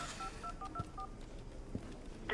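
A phone number is dialed as a quick run of about eight short DTMF keypad tones, each a crisp beep, over a low room hum, followed by a brief tone near the end.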